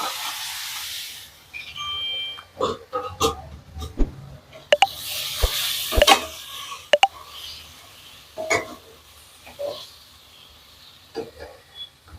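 Chopped ingredients drop into a hot pan of spiced beef spleen fry with a burst of sizzling and hissing, followed by scattered clatters and pops, with faint intermittent voice.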